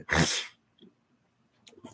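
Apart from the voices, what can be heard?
sneeze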